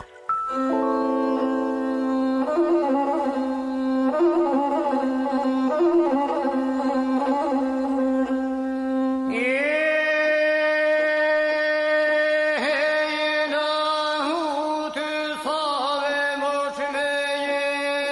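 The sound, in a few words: Albanian folk song with lahuta lute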